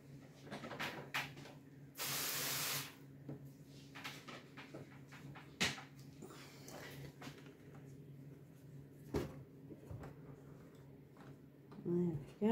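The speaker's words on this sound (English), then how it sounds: "I need to spray it again." A spray bottle misting cacao pods in a container, one close, steady hiss lasting under a second amid quiet handling clicks and knocks, with people talking softly at times.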